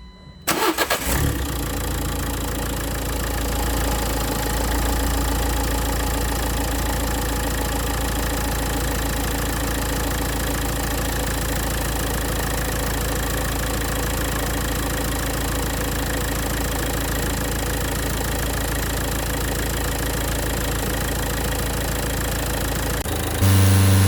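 A Nissan Note E12 with the 1.5 dCi diesel engine cranks and catches, then settles into a steady, close, loud idle with a faint knocking edge that carries on unbroken for about twenty seconds.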